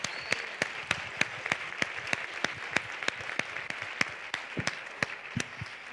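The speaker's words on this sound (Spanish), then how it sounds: "Otro aplauso para estos chicos." Audience at a fundraising congress gives a steady round of applause, a close, even wash of many hands clapping with sharp individual claps standing out, sustained for the whole stretch.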